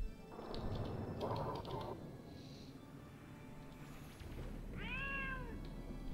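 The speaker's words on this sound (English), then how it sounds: "Somebody got a cat. Or a kitty kitty." A cat gives a single drawn-out meow with a rising and falling pitch near the end, following several seconds of quieter, indistinct shuffling and clatter.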